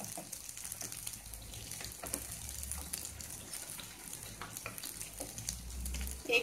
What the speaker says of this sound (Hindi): इसे भी गोल्डन ब्राउन कलर के होने तक फ्राई करेंगे।